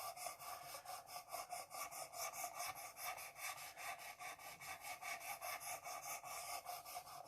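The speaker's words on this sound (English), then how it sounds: "flick your knife over and back onto the stone, and this is the 600 again" A knife blade is drawn back and forth across a 600 grit stone on a Work Sharp precision sharpening system, giving a steady rhythmic rasping of even strokes, close and fairly quiet.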